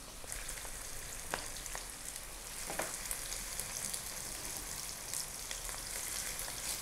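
Bone-in mutton for korma fries in a pot with ginger garlic paste, giving a constant dense sizzle with scattered sharp pops and crackles throughout, close and fairly quiet, with no talking.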